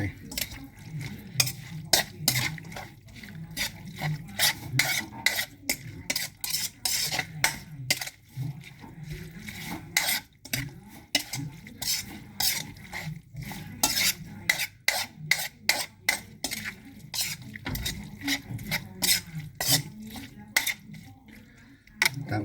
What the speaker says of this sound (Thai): คนสักหน่อย ให้เข้ากัน